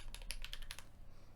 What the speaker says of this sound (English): when you type your password into the terminal, it doesn't show